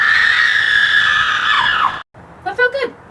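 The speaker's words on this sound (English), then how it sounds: "So apparently, screaming only works temporarily." Loud, sustained screaming from several people fills the air, then breaks off abruptly, followed after a short gap by a second, shorter burst of yelling.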